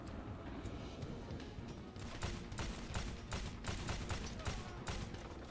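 Rapid gunfire in the shooter game Wanted: Weapons of Fate, a dense string of sharp shots and bursts repeating over faint background game audio.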